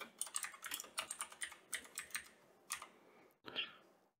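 Quick, uneven run of close keystrokes on a computer keyboard while setting up a Moes Zigbee smart radiator valve thermostat in Home Assistant, a brief pause, then a final short cluster of taps; no voices.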